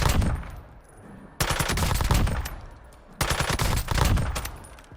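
Two long bursts of rapid automatic gunfire from a suppressed video game weapon, dense and loud, separated by brief quieter gaps.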